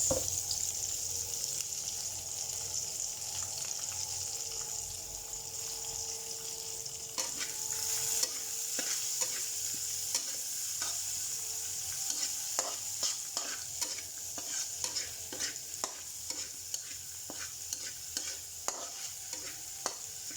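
Garlic and onion sauté in a pan as the base for a chicken curry, giving a steady frying sizzle with a continuous hiss and frequent sharp spoon-scraping clicks, close and fairly loud, with no talking.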